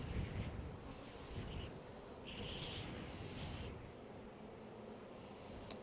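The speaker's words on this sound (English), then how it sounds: "Beautiful bees." Honey bees buzzing around an open hive in windy weather, a steady, soft, near drone with gusts of wind rushing over it and brief higher whines from individual bees passing close.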